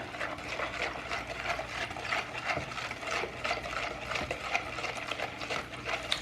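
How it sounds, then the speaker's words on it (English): Whisk beating an olive oil marinade for shrimp in a bowl, quick steady rhythmic clicking and sloshing close by, soft and continuous with no talking. "Now we'll get all this whisked up. Let's whisk it good."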